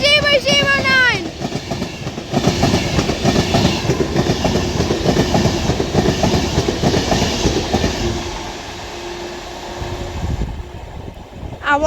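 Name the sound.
Avanti West Coast Class 390 Pendolino train passing through station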